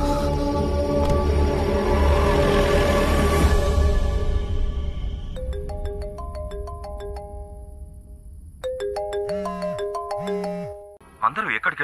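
A phone ringtone plays unanswered in a Telugu thriller film, its bright melodic electronic tones repeating in clear steps after a dense, loud stretch of dramatic score, with a lower pulsing tone joining near the end.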